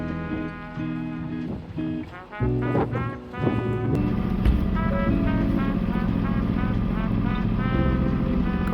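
Sailboat engine running steadily as the boat motors out on its first sea trial, a loud sustained drone with tonal hum after a few uneven knocks and bumps at the start.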